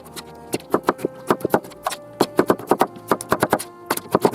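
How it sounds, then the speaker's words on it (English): Nutri Chopper blade striking through beef tomatoes being cut into cubes, a rapid series of sharp, close chopping taps in an irregular rhythm, with no talking. "just chop them down into cubes"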